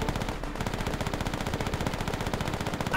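Rapid, continuous automatic gunfire from the World War II shooter game Call of Duty: World at War, a dense, loud rattle of machine gun shots sustained throughout without pause.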